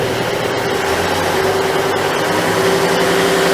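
Diesel engine of a Greenline hybrid boat heard through an open engine hatch, a steady loud drone with a sustained hum, running close by at a constant pace with no clear rev change.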